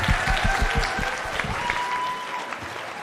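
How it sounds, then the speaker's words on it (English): A room full of guests at a care awards evening gives a big round of applause, dense steady clapping from many hands, loud and close, with a faint voice or tone drifting over it. "a big round of applause for all of you."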